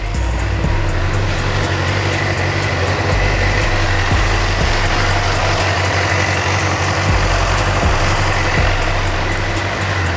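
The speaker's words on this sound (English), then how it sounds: "Stock exhaust sounds minty." A stock-exhaust 2009 Suzuki GSX-R 600 sport bike engine idles steadily and loudly up close, with a low, even rumble throughout and no talking.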